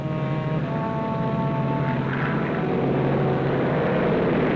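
An overloaded propeller plane on a 1927 transatlantic flight drones loudly and steadily as it takes off at dawn, with a constant engine hum and no speech.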